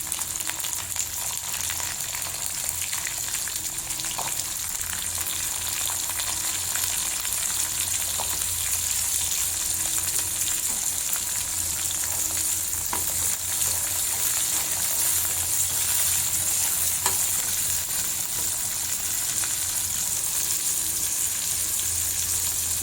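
Garlic and small shallots frying in hot oil for a tamarind-style kuzhambu, a loud, steady hiss and crackle that continues unbroken, with faint occasional stirring clinks.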